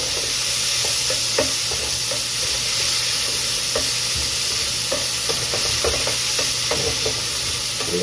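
Tomatoes sautéing with cabbage in a pan for a home-cooked Filipino ginisang repolyo, a steady loud sizzle with scattered stirring clicks and scrapes throughout, no talking.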